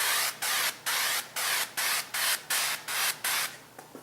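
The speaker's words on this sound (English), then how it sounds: "Just hit this with some cooking spray on the pan" Cooking spray is sprayed onto a pan in about nine quick, even hissing bursts with short gaps between them, close and fairly loud.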